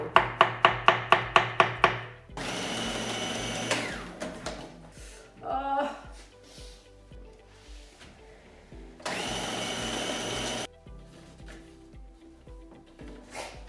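A food processor with an S-blade chopping mushrooms, opening with a quick run of sharp pulse bursts, then two long steady motor whirs separated by rattling and clattering.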